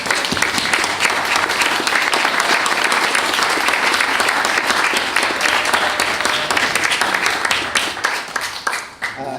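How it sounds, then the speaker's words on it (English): An audience at a graduate school graduation ceremony in Paris applauds the graduates: steady, dense clapping from many hands that fills the room, sustained and loud before tapering at the end. "Please join me in once more applauding our graduates"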